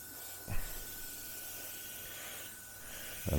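Airbrush spraying a light mist coat of paint onto a 1/35 Spitfire Mk Vb scale model, a steady faint hiss with soft bumps at the start and end of bursts, close and without talk.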